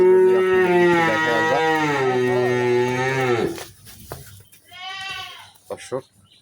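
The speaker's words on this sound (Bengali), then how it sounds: "অনেক বড় গরু এগুলো" A large heifer at a cattle market gives a long, loud, close moo, followed by a shorter lowing call, with a brief pause in between.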